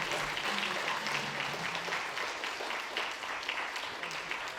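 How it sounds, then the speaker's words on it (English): Quiet, continuous applause from a conference audience after a talk on wildlife as property owners, soft and distant, with no voices over it. "A round of applause."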